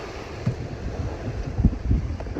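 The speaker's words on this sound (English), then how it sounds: "Some rain out there. It's very windy." Steady wind roars across the microphone aboard a 53-foot sailing ketch at sea in rain, with low gusty buffeting and rumbling thumps, like blustery open air on the water.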